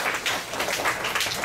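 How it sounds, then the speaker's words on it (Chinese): Short burst of classroom applause for a student in a programming class, a scattered patter of a modest group of hands clapping together, moderately close and brief. "好，我们给陈宇一个掌声。"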